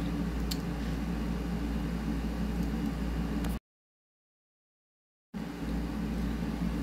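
Air conditioner running in a room during a heat wave, a steady low hum with broadband airy noise that continues evenly, cut by a brief stretch of total silence before resuming.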